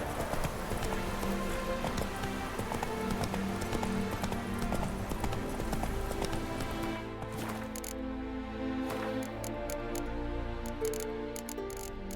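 Roach the horse galloping in a video game, rapid rhythmic hoofbeats drumming steadily, close and clear, then slowing into separate clip-clops as ambient game music carries on underneath.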